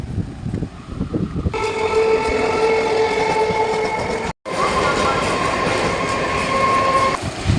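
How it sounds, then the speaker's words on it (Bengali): A train pulls in at Bidhannagar railway station on the Sealdah line, a loud, steady rumble of wheels and rolling carriages with a sustained horn-like tone, close by and continuous. "4 নম্বরে শিয়ালদা যাওয়ার ট্রেন অলরেডি চলে এসছে"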